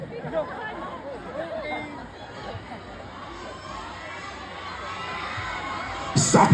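A large crowd of university students shouts and cheers together in a dense, sustained roar of mixed voices, loud and continuous, swelling slightly at the very end.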